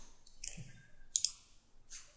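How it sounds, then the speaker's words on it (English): Computer mouse clicks while importing a file in 3D software, a few quick, light, close-up clicks with two sharp ones in close succession, heard in a quiet room without talking. "click on File, Import,"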